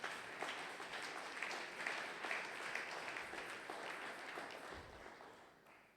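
A congregation applauds during a Sunday worship service of praise and thanksgiving, giving steady sustained clapping of a crowd at an even level across the whole span, with no talk over it.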